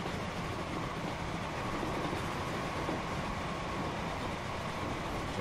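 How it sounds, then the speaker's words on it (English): Steam trains in Transport Fever crawling over a hill, a steady dense rumbling rail roar, continuous and even with no distinct beats. "Last 2 trains crawling over the back of the hill there"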